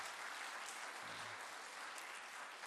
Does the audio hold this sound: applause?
yes